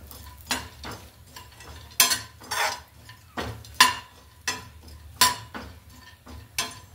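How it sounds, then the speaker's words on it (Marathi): Almonds being roasted in ghee in a pan for date and gum ladoo, with repeated clinking stirs and scrapes of a utensil against the pan at an uneven rhythm, close and fairly clear, with no talk. "या तुपामध्ये ना आपल्याला छान असं हे बदाम आहे ना खरपूस होईपर्यंत भाजून घ्यायचे"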